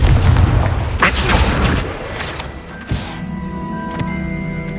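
Confringo fire spell explosion in the video game Hogwarts Legacy, a loud burst and roar at the start that fades into a crackling tail with a few sharp pops and tonal game effects.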